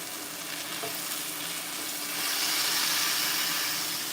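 Loud, steady frying sizzle from burger patties on a hot surface, a dense crackling hiss that swells louder partway through as the patties are pressed.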